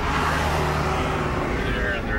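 Road traffic rolls along Highway 13 in a small-town landscape, a steady close drone of vehicle engines and tire noise. A voice talks over it throughout.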